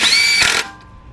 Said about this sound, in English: I'm using my cordless impact, 10mm. Deep. Tighten those two up.